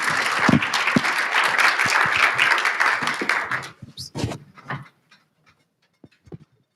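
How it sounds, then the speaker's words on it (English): Conference audience at a Devex health event applauds the panelists, a dense burst of clapping for over three seconds that breaks into scattered individual claps and fades to near silence. "Please join me for a round of applause for our panelists."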